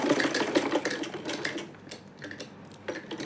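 Sewing machine stitches along a drawn line on buckram for a neck design, running in a fast, steady rattling whir up close before easing slightly toward the end.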